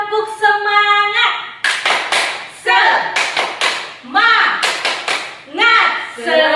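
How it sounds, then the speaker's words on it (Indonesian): At a Sunday school service, children clap hands in short rhythmic bursts between a woman's sung chant, the claps loud and close, alternating with the voice. "seperti orang mau bertepuk tangan ya adik-adik. Tepuk semangat."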